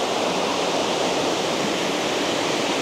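Tuklas waterfall pours in a dense, steady roar of rushing water, constant and close with no breaks.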